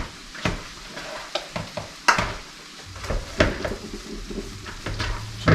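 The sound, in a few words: mixing seasoned mixture with salt and pepper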